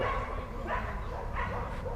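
Several barks from wild dogs ring out at a distance, with a continuous low rumble underneath and no clear talking.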